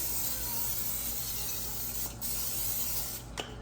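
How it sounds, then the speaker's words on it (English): A steady, close hiss of cooking spray sprayed into a heated pan runs for several seconds, breaking off briefly before a final short burst. "I'm just going to spray it with cooking spray."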